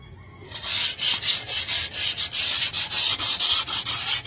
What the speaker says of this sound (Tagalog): Pupuspusin po natin ang liha. Para po matanggal yung mga excess na kalawang.